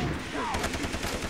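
Rapid machine gun fire in the video game Far Cry 3, a continuous burst of closely spaced shots, loud and near, running through the whole short moment.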